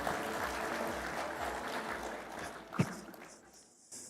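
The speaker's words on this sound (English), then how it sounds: "Another round of applause for our Vice Chair" Conference audience clapping in a large hall, a moderate, diffuse patter that holds steady for a few seconds, then thins and fades out after a single louder knock.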